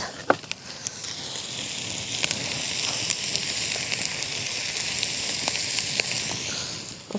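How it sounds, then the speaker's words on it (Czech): Risotto ingredients sauté in a kettle pot cooking outdoors, giving a steady, close sizzling hiss scattered with sharp crackles and pops. "Necháme trošku orestovat."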